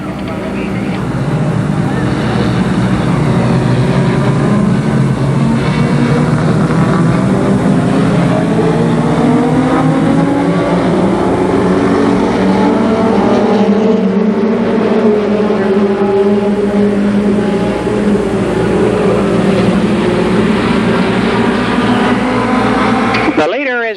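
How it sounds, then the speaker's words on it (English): ARCA Pro 4 race cars lapping Columbus Motor Speedway in 1991, the engines a loud, continuous roar that swells as cars pass, with an announcer talking over the noise throughout. "10 racing laps for these gentlemen in their ARCA Pro 4s."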